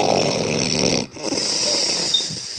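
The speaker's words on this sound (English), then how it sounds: "Listen to her snoring." Charlotte, a woman, snores loudly and close by, a rough, sustained rasping breath that drops out briefly before starting again.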